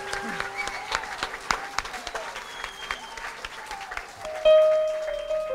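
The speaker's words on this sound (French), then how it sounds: "applaudissez-le, s'il vous plaît." A concert audience claps throughout, dense applause from a crowd in a hall, with some cheering and a sustained tone swelling near the end.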